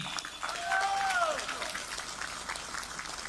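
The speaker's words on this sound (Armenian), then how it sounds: "ես ուզում եմ, որ մենք բոլորս բարձր ծափերով ողջունենք 10 եպիսկոպոսներին" A crowd gives loud applause to welcome ten bishops at a public gathering, a dense, steady patter of clapping from many hands, heard under someone speaking over a loudspeaker.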